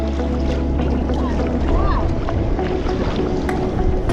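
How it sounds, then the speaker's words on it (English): Northerly sea swell barreling onto reefs off the northern end of the Farne Islands, heard from a sea kayak as a steady close wash of surf and water noise with wind, continuous throughout with no talk. "The swell from the north produced some cracking waves as they barreled in onto the reefs off the northern end."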